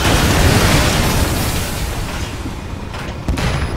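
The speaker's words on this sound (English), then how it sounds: "Hellfire missile barrage!" A Hellfire missile barrage in the video game Metal Gear Solid V sets off a loud, dense roar of explosions that rumbles on continuously, eases slightly, then ends with one sharp late pop. Nobody speaks.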